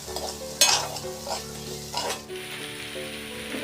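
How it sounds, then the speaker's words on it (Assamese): Pumpkin and chicken sizzle and fry in a pan while a spoon stirs them, with a few louder scraping strokes over a steady hiss. No one speaks. "ভালদৰে লৰাই দিম এতিয়া"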